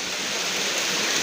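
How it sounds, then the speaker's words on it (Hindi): Heavy, continuous rain pours down during a downpour in Rohtak, a dense, loud and steady hiss with no breaks and no voices. "गाइस अभी देखा होगा उन्हें बारिश कितनी तेज आ रही है"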